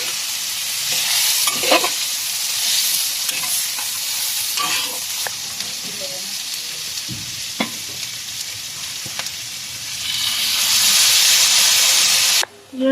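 Pancit noodles are stirred and fried in a hot pan, with steady sizzling and hissing broken by scraping stirring strokes, and a loud burst of steam near the end.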